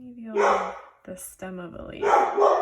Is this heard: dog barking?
yes